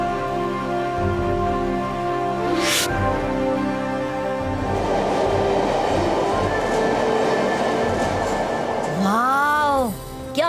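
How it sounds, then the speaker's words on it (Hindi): An elevated metro train in a cartoon city runs along with a steady rumbling roll, a rising whoosh early on and a wobbling squeal toward the end, while a voice talks over it. "क्या मेट्रो ट्रेन है"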